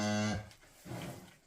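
A black cow on a farm gives a single short, low moo at the start. Quiet outdoor background follows, with no talking.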